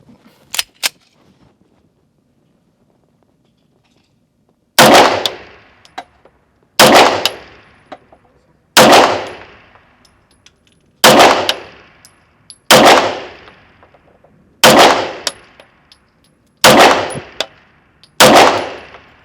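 Smith & Wesson 1911 Pro Series 9mm pistol fired on a busy outdoor range: eight loud, sharp shots spaced about two seconds apart, each with a quick ringing decay, preceded by a couple of faint distant pops.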